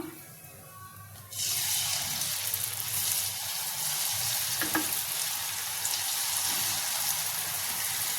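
Chakralu and ribbon pakodi dough dropped into hot oil sets off a sudden burst of bubbling, crackling sizzle that stays loud and steady, with a faint clink partway through.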